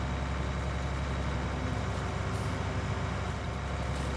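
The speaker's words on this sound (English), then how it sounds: "Come on, tractor." A tractor engine in Farming Simulator 19 drones steadily under load, a low continuous rumble that holds near and even without pause, with no voices over it.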